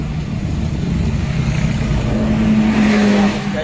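Stop-and-go road traffic in Baliwag, with car engines droning steadily and close by and one engine rising in a rev toward the end, with no talking.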